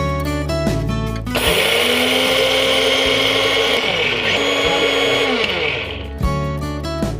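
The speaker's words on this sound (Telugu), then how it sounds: "ఈలోపు మిక్సీ జార్ తీసుకుని అవిసె గింజల్ని పొడి చేసుకోవాలి." A kitchen mixer grinder grinds flax seeds into powder, its high, steady whir starting abruptly and running for about four and a half seconds before spinning down, with softer clatter on either side.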